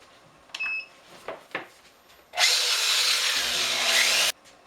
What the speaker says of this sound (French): Étape suivante, c'est le ponçage.